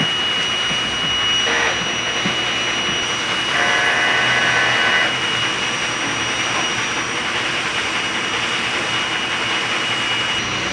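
A sublimation printer hums with a steady mechanical whir throughout, with a brief higher-pitched grinding burst partway through as it runs its head cleaning cycle.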